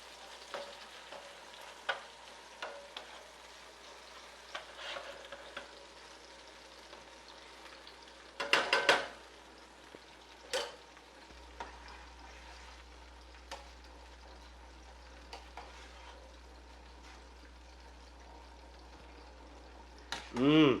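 Cherry tomatoes and garlic sizzle quietly in a pan, a soft steady fry broken by sharper clatters of stirring and a loud scrape near the end.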